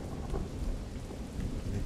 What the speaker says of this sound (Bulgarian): Заваля някакъв дъждец, майка.